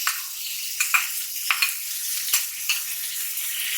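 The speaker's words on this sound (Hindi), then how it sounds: "और अच्छे से भुनना, मतलब इतना कि टमाटर सॉफ्ट हो जाए बिल्कुल" Tomatoes fry in a pan for tawa qeema, a close, steady sizzle broken by a few sharp spoon scrapes and stirring clatters.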